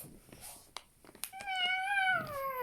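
A cat meows in a rising then slowly falling, drawn-out call that follows some faint clicks and light handling noise, heard close and alone.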